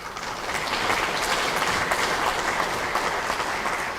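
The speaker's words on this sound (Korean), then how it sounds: "한 10번 정도는 박수를 쳐주신 것 같아요" Sustained audience applause at a political rally, dense clapping at steady volume throughout without letting up, with no speech over it.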